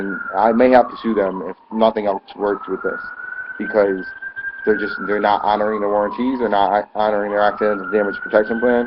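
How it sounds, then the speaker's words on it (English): A siren wails steadily in the background, gliding slowly in pitch, while a person talks continuously over it. "Sorry about the sirens"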